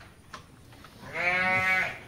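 A sheep in a livestock pen gives one long, loud, wavering bleat, heard alone after a quiet stretch of faint background noise.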